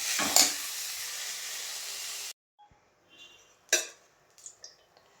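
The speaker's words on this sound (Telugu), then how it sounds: "ఇది తీసేసి కొద్దిగా ఆయిల్ వేసి కొంచెం పచ్చిమిరకాయలు కూడా నూనెలో వేయించేస్తాను" Hot oil hisses and sizzles steadily in a pan, then drops away; afterward come scattered clinks and brief spitting bursts as green chillies are added to fry in a kitchen.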